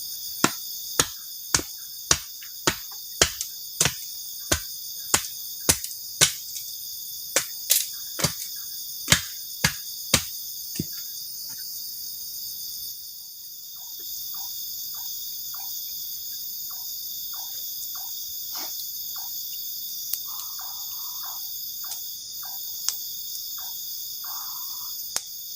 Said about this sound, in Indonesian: menikmati suasana malam, ditemani sama suara jangkrik juga